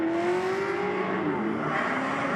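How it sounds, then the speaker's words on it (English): Drift car sliding through a handbrake turn at a grassroots drifting competition on Agassiz Speedway, engine tone sweeping steadily with tire noise, loud and continuous throughout. "big handbrake slide by that guy"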